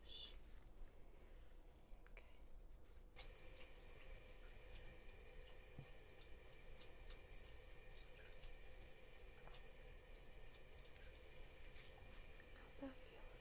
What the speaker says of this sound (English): I'm just gonna begin the wash.